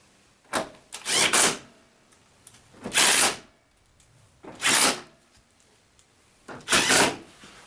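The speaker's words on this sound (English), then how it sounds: "Now we need to put the four screws in on the back." Screws being driven into the back panel of a Zanussi vented tumble dryer during a belt replacement: five short, loud, close bursts of whirring with quiet pauses between them, the second one longer, and no talking.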